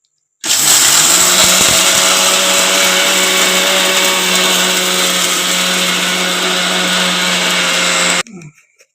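A mixer grinder loudly whirs while grinding cardamom and camphor into sambrani powder, a close, constant high-pitched motor roar lasting about eight seconds before cutting off abruptly and winding down.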